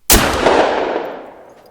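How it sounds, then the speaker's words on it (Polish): A single shotgun blast from the hunting game The Hunter: Call of the Wild, loud and sharp, followed by a long, decaying echo rolling away over open terrain. "ja cię zaraz tutaj potraktuję ze śrutówki"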